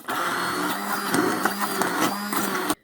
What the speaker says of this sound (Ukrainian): І зараз я його зіб'ю блендером.